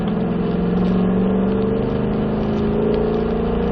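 A car accelerating out of a corner on a race track, a loud, close, steady engine drone whose pitch climbs gradually as throttle is added.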